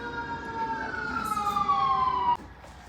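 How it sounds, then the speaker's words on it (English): A wailing emergency siren sweeps up and down nearby, fairly loud, then cuts off abruptly near the end. "Oh, we hear the sirens"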